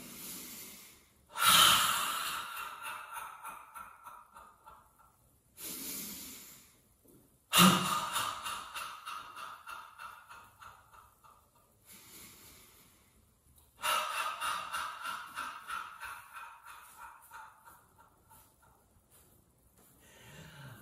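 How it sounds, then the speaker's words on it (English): Slow guided breathing during a qigong warm-up: three rounds of a sharp nasal inhale followed by a long, gradually fading exhale through the mouth, close and fairly loud with quiet gaps between. "We'll inhale through the nose and exhale through the mouth."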